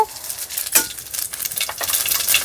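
Whole cumin seeds hit hot oil for a vegetarian omelette, giving a bright, crackling sizzle with bursts of popping and a spoon stirring, close and steady with no voices.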